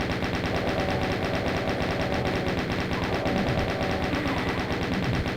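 A chaingun in Doom II fires a rapid, steady stream of shots that stays loud and unbroken for over five seconds, with faint other noise beneath.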